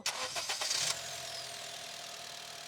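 A Honda Amaze car engine cranks with a few quick starter pulses, catches after about a second, and settles into a smooth, steady idle, close and clear with no talk.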